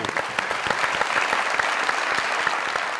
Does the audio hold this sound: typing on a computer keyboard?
no